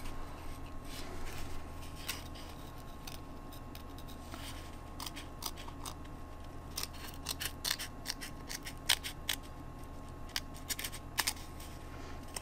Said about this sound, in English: I also cut that second ridge, I cut it open.